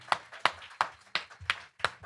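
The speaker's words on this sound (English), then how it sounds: "Let's get a round of applause for Mercado" Clapping for a winner at a holiday party and fundraiser: six crisp, evenly paced hand claps, close and fairly quiet, with short gaps of near silence between them and no voices.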